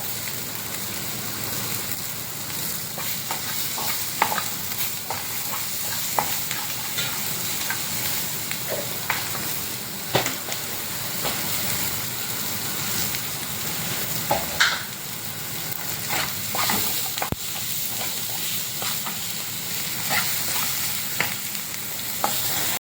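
Oats upma ingredients sauté in a pan, a continuous sizzle broken by repeated scraping strokes of a spoon stirring, close and fairly steady with no voices.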